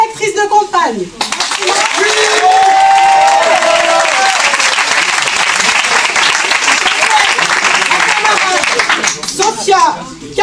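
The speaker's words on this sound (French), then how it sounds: "Un premier applaudissement pour ma directrice de campagne." A large crowd at a municipal election campaign rally in Clichy-sous-Bois, France, claps and cheers loudly and steadily for several seconds, with a voice speaking briefly at the start and end.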